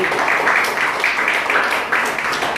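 Worshippers in a church applaud together, a steady, even wash of many hands clapping at moderate volume, continuing without pause.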